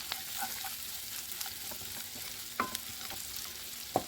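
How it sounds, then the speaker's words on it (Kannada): Rice with freshly ground black pepper and cumin powder being stirred in a pan for lemon rice, a soft continuous sizzle with occasional spoon scrapes and taps against the pan. "ಈಗ ಇದಕ್ಕೆ ನಾನು ಆವಾಗಲೇ ಕುಟ್ಟಿ ಪುಡಿ ಮಾಡಿಟ್ಟ ಕಾಳು ಮೆಣಸು ಜೀರಿಗೆ ಪೌಡರ್ನ ಹಾಕ್ಕೊಂಡು ಈಗ ಮತ್ತೆ ಮಿಕ್ಸ್ ಮಾಡ್ತಾಯಿದ್ದೀನಿ."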